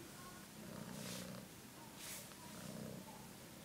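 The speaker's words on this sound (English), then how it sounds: "That's Wolfie, purring boy." A cat's soft, continuous rumbling purr close up, swelling in a slow rhythm with each breath, with faint breathy noise on top.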